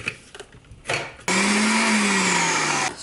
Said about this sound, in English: Okay, so you need a high-speed blender